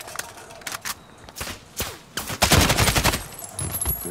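Bursts of gunfire from Call of Duty Modern Warfare, with rapid automatic fire and scattered single shots that crowd together and grow louder toward the end, mixed with faint game effects.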